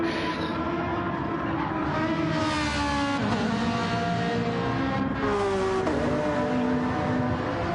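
GT race cars from a racing video game circulate at Laguna Seca, several engines droning and shifting pitch close together in a dense, continuous, loud roar with rising and falling tones as they pass.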